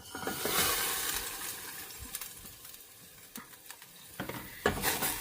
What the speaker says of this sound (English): For the beans, I'm going to add them to a small pot with cooking oil.